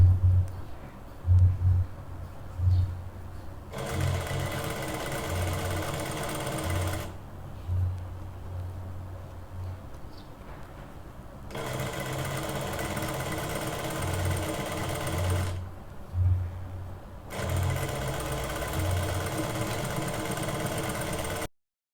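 A sewing machine stitches right along the edges of button plackets in bursts lasting several seconds each, a steady mechanical whir separated by quiet pauses with soft handling noises.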